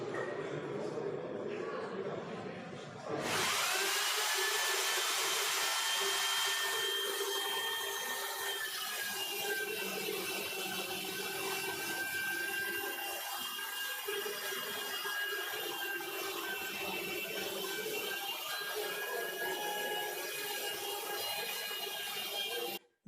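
Robot-controlled chainsaw cutting wood to build two stools and a table, a loud, steady whining drone that holds for about twenty seconds, far and slightly muffled, with pitch shifts as it cuts.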